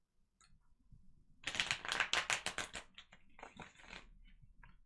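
Tarot cards being shuffled close up, a quick burst of riffling snaps followed by softer shuffling slides, quiet and isolated with no talking.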